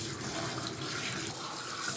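Running tap water pours and splashes steadily over a Yorkshire terrier mix as it is rinsed in a bath, a continuous close wash of water with no talking.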